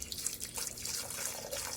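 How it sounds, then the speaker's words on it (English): Hot water pouring into the jug of a T122 tea extractor blender, a continuous close splashing stream with faint dripping texture, fairly quiet and with no talk. "you can just go ahead and pour the hot water directly in there"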